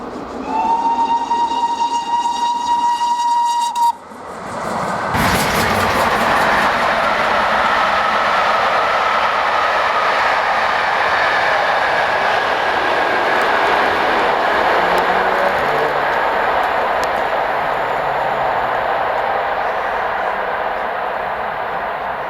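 Steam locomotive Clun Castle hauls the Cumbrian Mountain Express rail tour south past Winwick, returning from Appleby to Birmingham New Street: a whistle blows, then a loud, sustained roar of the engine and train rushing close by.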